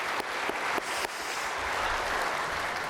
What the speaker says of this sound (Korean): 우리 유영길 지휘자님께 사랑과 격려의 박수를 좀 해줬으면 좋겠습니다